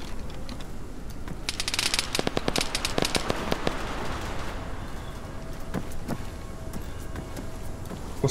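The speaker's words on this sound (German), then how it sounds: "Schießen auf mich." Gunfire during a central-bank robbery in the Arma 3 Life mod: rapid crackling bursts of shots, densest early on, then scattered sharper reports over a steady background din.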